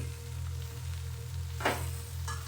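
Spinach bhaji being stirred in a hot pan, a steady quiet sizzle with a couple of brief scraping strokes from the spoon partway through.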